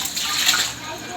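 Water splashing and sloshing in a basin as laundry is washed by hand, a brief close, steady wash of liquid noise.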